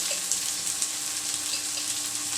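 Garlic ginger paste frying in a pan for masala bhindi, a continuous close sizzle with faint crackles and light stirring, no talking.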